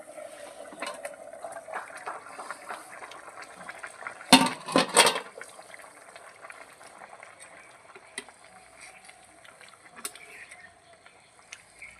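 Meat and potato curry bubbles in a pot over a wood-fired earthen stove, a soft, continuous low simmer punctuated midway by a loud burst of clattering, likely the lid being handled.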